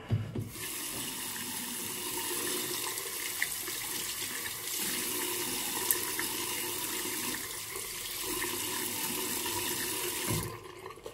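A tap running during a traditional Turkish shave, a steady broadband rush of water into a basin, close and constant for about ten seconds before cutting off, no talk.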